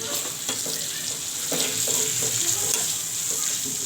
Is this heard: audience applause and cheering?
no